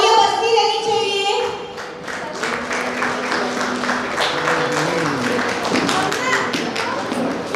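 Parents clap at a school annual cultural fest, producing a run of sharp, scattered hand claps and taps over a mix of voices and tones, fairly close and uneven in rhythm.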